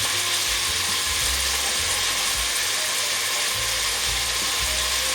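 Pepper mill grinding black pepper over a pot of onion soup, a dense continuous ratcheting crackle lasting several seconds, close and loud, with the soft sizzle of cooking behind it.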